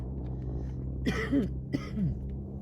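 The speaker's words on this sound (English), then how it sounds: "Just a little bit of a cough." Two short coughs, one after the other, close by over a low background hum.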